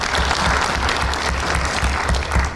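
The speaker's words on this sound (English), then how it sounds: "A round of applause, ladies and gentlemen." An audience claps loudly and continuously at a formal diplomatic gathering, a dense close burst of applause that fills the whole moment without talk.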